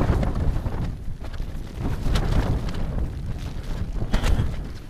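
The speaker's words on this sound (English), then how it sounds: "Pretty windy up here" Wind gusts and buffets a wet, windy hilltop wild camp on Coll de Gats, a continuous rough, rumbling roar that swells and eases without pause.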